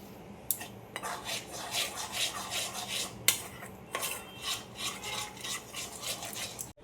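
Besan batter with turmeric, Kashmiri chilli and salt being mixed in a bowl, with rhythmic scraping and rubbing strokes and a few sharp knocks against the bowl.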